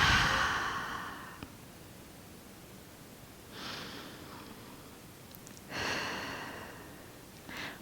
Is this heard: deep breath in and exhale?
yes